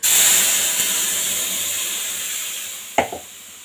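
A loud burst of hissing steam as hot tempering with asafoetida is poured into green chili chutney, slowly dying down, followed near the end by a clunk of a utensil.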